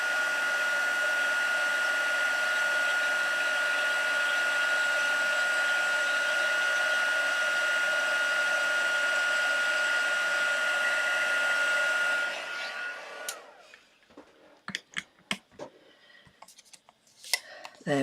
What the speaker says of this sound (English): Love a bit of heat embossing.